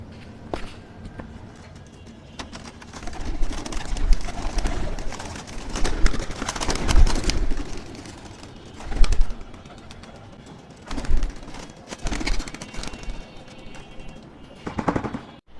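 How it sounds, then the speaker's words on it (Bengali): Flying pigeons are released from a loft, with bursts of wing flapping and fluttering rising and falling in loud clusters, plus faint cooing and occasional footsteps between the flurries. "চলুন ফ্লাইং কবুতরগুলোকে ছাড়া যাক।"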